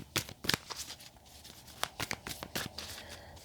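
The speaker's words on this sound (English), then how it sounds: "The card, I was shuffling forever." Tarot cards are shuffled by hand in quick riffling bursts, a series of crisp flicks and slaps with short pauses between them, close and fairly quiet.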